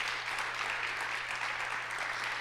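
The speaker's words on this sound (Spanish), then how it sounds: "Dale un aplauso a Dios por eso" Sustained applause from a church congregation at a Spanish-language sermon, a steady dense wash of many hands clapping, fairly soft and continuous with no voices on top.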